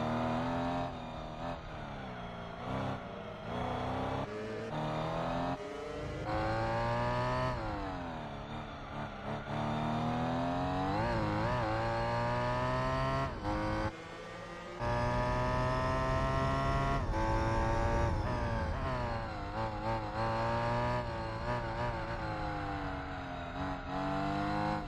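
BMW M Coupe in Gran Turismo 4 racing at the Opera Paris street circuit, its engine a loud, steady roar that climbs and drops through repeated gear changes and revs, up close the whole time with no talk over it.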